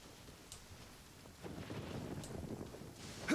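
Rain falls steadily with low rumbling thunder in the video game Genshin Impact, quiet and distant at first, then swelling into a heavier, closer roll of thunder near the end.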